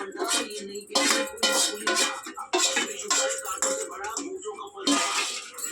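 Fried rice being mixed in a pan gives repeated metallic scraping and clattering strokes in an uneven rhythm, close and fairly loud, with a voice speaking over them at times.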